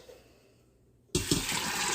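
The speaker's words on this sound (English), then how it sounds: "Put them in our Instant Pot along with 6 cups of water." Water pours into an Instant Pot alongside rinsed pinto beans, starting abruptly after a quiet second and running as a loud, steady rushing splash to the end.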